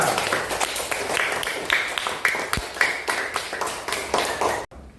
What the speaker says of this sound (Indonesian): Tepuk tangan dulu untuk Juanda.